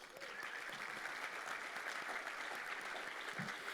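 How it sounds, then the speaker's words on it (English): Steady, full applause from a large audience at a State of Downtown civic address, continuous clapping that fills the whole stretch at an even loudness. "Round of applause for everyone who showed up today."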